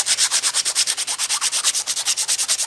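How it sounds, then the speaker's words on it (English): A brake caliper on a 2011 Buick Enclave is hand-sanded with 150 grit sandpaper, producing fast rhythmic back-and-forth scratchy strokes, close and loud, with an even steady pace. "Just using 150 grit sandpaper on these."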